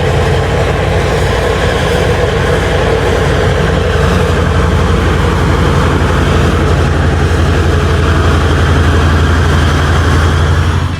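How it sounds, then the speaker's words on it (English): A deep, constant roar from a heavy open-pit mining truck engine rumbles without letup, heavy low tones with a gritty mechanical texture, loud and close. "The engine sound is deep, almost like a constant roar echoing through the environment."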